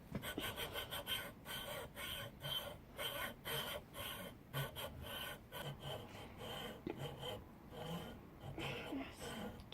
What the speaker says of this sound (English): Keep sawing, just keep sawing.